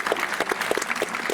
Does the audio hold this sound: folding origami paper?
no